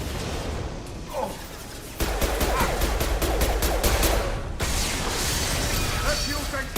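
Sustained rapid gunfire and bursts from a Mass Effect 2 firefight, loud and dense, continuing throughout with game voices shouting over the shooting.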